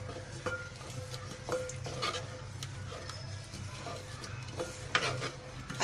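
A ladle stirs khandli mixture in a pot over medium-low heat, making repeated soft scraping and clinking strokes above a low simmering hiss, close up and without speech.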